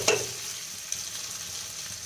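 Onions with cumin and asafoetida sizzle in hot oil in a kadhai, a sharp initial crackle as they hit the pan settling into a steady close hiss with a light stir.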